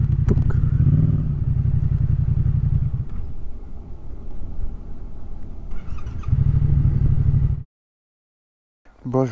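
A motorcycle engine drones loudly and close along a path, its low steady rumble easing off in the middle and then returning strongly before cutting out abruptly into silence.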